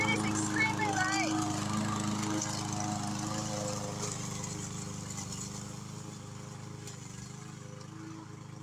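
A small, lightweight 144cc gas-powered walk-behind lawn mower with a bagger runs steadily with a close, continuous engine drone that eases slightly over the clip.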